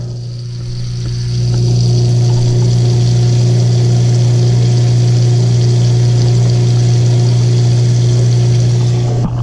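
An InSinkErator garbage disposal under a kitchen sink switches on with water running, spinning up within the first second into a steady, loud motor hum that holds evenly until it cuts off at the end.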